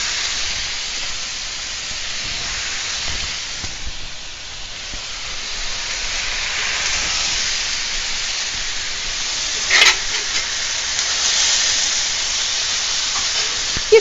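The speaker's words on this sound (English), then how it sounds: "We're also going to stir fry in some fresh tomatoes." Fresh garden tomatoes stir-fry with tuna in a pan, giving a broad, steady steamy hiss that swells slightly midway, with one brief clack of a utensil.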